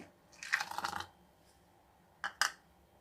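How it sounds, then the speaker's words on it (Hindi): Ice cubes tumble into freshly blended fruit juice for a cold summer drink: a dense clattering rattle first, then two short separate clinks, close and fairly crisp with no talk. "अब इसमें बर्फ़ जाएगी"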